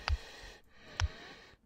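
Creature breathing in an old-school Resident Evil-style horror game: two short raspy breaths or snorts about a second apart, close and fairly quiet over a low ambient hum.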